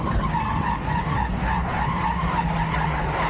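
A truck towing a trailer brakes hard at about 50 mph on a slippery patch, with a steady loud tire skid and road roar over a sustained engine drone, continuous throughout.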